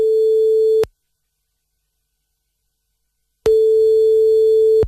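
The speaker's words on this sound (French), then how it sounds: "Ok, super. Ça sonne." A telephone line tone sounds over a prank call on a radio show: two loud, steady electronic tones, the first cut off near the start and the second beginning after a gap of silence, with no voices.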